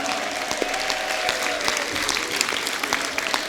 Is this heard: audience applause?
yes